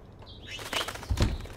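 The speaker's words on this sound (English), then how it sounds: "Oh no, that poor little bird has been trapped in here." A trapped bird in Life is Strange flaps its wings in quick, fluttering bursts close by, with a short chirp early on and a heavier flurry of beats near the end.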